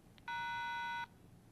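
A single electronic cell phone keypad beep, a clear steady tone lasting under a second, close and quiet against faint background hiss.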